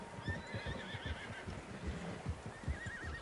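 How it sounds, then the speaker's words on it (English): Several horses whinny and neigh in Red Dead Redemption 2, high wavering calls over a steady patter of hooves clip-clopping nearby, no voices. "Horses, quite a few of them."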